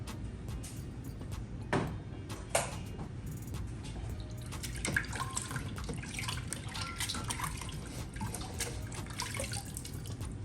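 Water runs and trickles steadily into a pan of cold water as hot cooked food for ackee and saltfish is cooled, with a few brighter splashes and clinks near the start, close and fairly quiet, with no talk.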